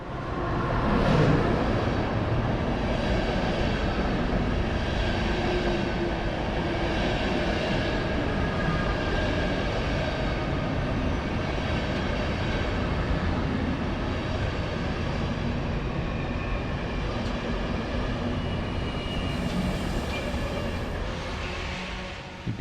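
EuroCity train at Berlin Hauptbahnhof, a loud continuous low rumble and hum of rail machinery that stays steady for over twenty seconds, with faint higher whines and hiss drifting above it.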